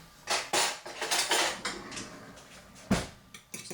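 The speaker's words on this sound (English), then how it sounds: "I'm just going to give that a little mix." A spoon clinks and scrapes against a bowl while yeast and sugar are mixed in water for homemade pizza dough, a series of close, irregular taps and stirring strokes.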